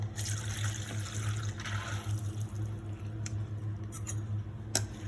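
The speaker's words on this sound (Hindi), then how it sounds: "अब इसके बाद इस पानी को छान लेनी है।" Water drips and trickles softly as it is strained off soaked lentils for medu vada, a faint wet pattering over a low steady hum with a few small clicks.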